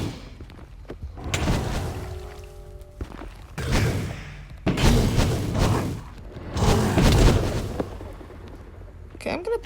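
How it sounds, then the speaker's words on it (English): Airstrike explosions in a video game played with the Mob armor mod: several heavy, rumbling booms and thuds roll in bursts, loud and close, with game sounds layered between blasts. "I can kind of call on airstrikes."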